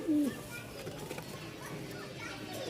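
A male Rajshahi Giribaz pigeon gives a short low coo right at the start, then only faint background noise follows, fairly close and moderately loud.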